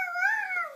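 A young child imitates a dog, giving one short, drawn-out, howl-like yelp that rises and then falls, close and fairly loud, with no other talk.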